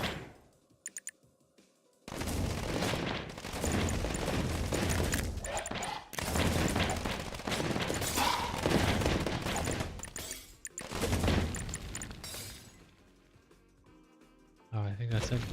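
Video-game gunfire erupts in dense, sustained bursts of rapid shots and explosions while enemies are killed, loud and continuous across most of the stretch, with a brief quiet gap before and after.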